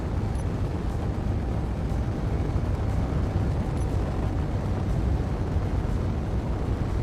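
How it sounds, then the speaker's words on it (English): Fire engulfs a ship climbing through the atmosphere at 12,000 meters in Space Engineers: a continuous, dense, even roar holds for about seven seconds without breaks or voices. "Oh, well, there, we're on fire now."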